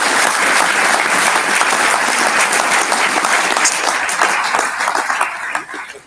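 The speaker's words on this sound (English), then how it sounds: "she deserves a huge round of applause" Sustained audience applause at an event, many hands clapping loudly and densely for about six seconds before tapering off at the end.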